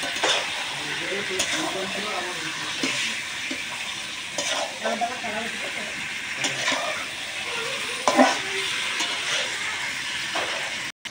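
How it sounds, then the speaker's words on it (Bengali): Duck meat fries in a pan with onion paste, giving a dense, continuous sizzle and crackle, with frequent stirring scrapes and clinks over about eleven seconds. "তো হাঁসের মাংসটা প্রায় ভাজা হয়ে গেছে"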